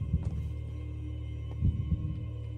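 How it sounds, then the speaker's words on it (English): A heartbeat races in the Minecraft game Decked Out 2: low, thudding double beats pulse over a steady electronic hum, loud and close, with no voice. "And the heartbeat's kind of racing."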